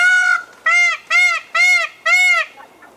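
A bantam rooster's crow broken into five loud, harmonic calls in quick succession, close by and alone on a farm, with a short pause between each.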